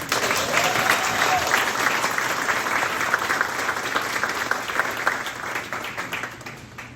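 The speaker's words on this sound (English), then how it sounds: "Big round of applause, please, for Mr. Barbera" Applause from the audience at a school board of education meeting, a dense, steady wash of many hands clapping that carries on for about seven seconds and thins slightly toward the end.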